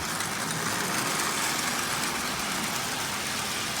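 Marx 490 toy train locomotive with a double reduction motor pulling a consist on track, a steady whirring and rattling motor drone that stays constant and fairly close throughout.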